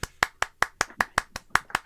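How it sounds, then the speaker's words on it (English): Clapping for a newly married couple, about ten evenly spaced sharp claps over two seconds, close and distinct, more like a few hands than a full crowd. "Can we get a round of applause, please,"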